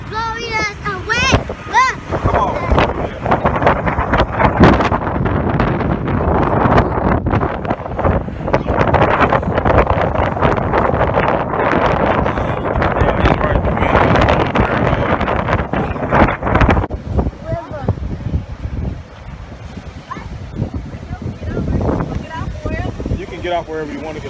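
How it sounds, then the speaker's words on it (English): Strong outdoor wind batters the microphone near the San Antonio river walk, a loud, continuous roaring rumble that surges and dips while people talk through it. "this wind is insane, bro"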